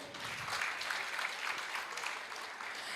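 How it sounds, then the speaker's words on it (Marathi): Audience applause at a lifetime achievement award ceremony, a dense, even patter of many hands clapping throughout, heard at a moderate distance and fairly soft. "खरं तर भारतजींसाठी एकदा जोरदार टाळ्या होऊ देत."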